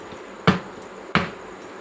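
A container of homemade mango ice cream is tapped twice against a surface, two sharp, close knocks about half a second apart, with no talking.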